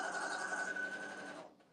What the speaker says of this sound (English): we now join Dana at the sewing